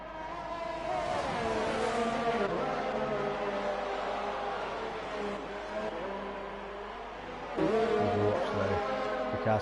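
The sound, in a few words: race cars driving around a circuit corner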